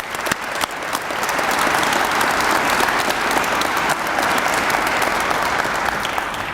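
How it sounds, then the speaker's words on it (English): Sustained applause from an awards ceremony audience for the bagpipe players, steady and full after a brief start, with no talking over it. "Please give them another round of applause."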